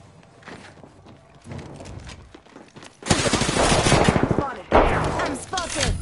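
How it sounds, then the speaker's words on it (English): Gunfire in a PS4 video game, with quieter scattered shots and footsteps giving way to a loud, dense burst of rapid automatic fire and a second volley soon after. "Taking fire. Getting shot at."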